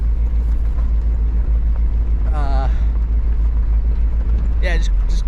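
A K5 Blazer crawling up a small hill in low gear, a loud, steady low engine rumble held throughout, with brief bursts of a voice over it.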